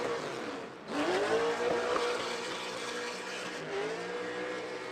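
LS V8-powered Nissan S13 hatchback drift car at a Formula Drift ProAm qualifying event, engine screaming loud and sustained with rising revs, tire squeal mixed in as it carries speed through the course.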